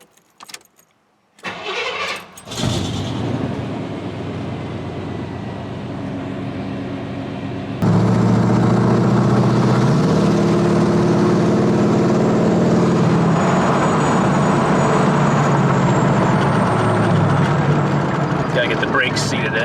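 A 3/4 ton Chevrolet Suburban cranks and starts, then its engine idles and rises into a steady, loud drone as it pulls away on a test drive, with the interior rumble continuing to the end.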